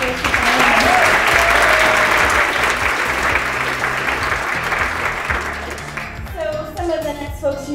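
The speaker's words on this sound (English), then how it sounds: "give a quick round of applause for her" An audience at a 2019 kickoff event gives a quick round of applause, steady dense clapping that swells and then tapers off, with a voice starting to talk as it fades at the end.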